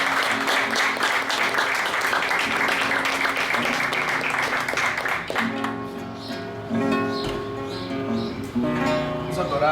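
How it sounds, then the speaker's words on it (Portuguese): Church congregation applauding for several seconds, then dropping into music with sustained tones as a song begins; loud and continuous, with some voices mixed in. "Você pode aplaudir Jesus?"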